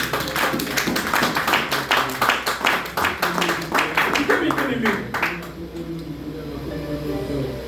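A church congregation claps together in a fast, steady rhythm, a dense run of loud hand claps that fades out after about five seconds, with a voice speaking over it.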